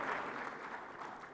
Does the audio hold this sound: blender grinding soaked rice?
no